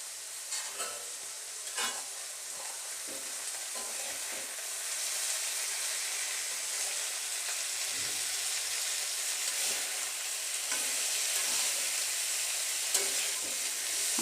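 Small fish fry in a little oil in a hot wok, giving a loud, steady sizzle with brief crackles and spatters throughout.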